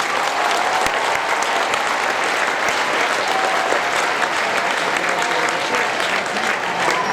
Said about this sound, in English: Give yourselves a round of applause because this is an amazing contest this year.